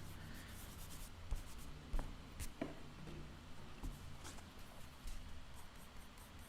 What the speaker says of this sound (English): The pencil going along the paper.